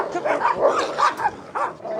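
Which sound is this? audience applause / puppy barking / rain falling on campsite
puppy barking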